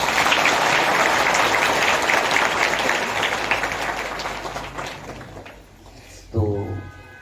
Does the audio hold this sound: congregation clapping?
yes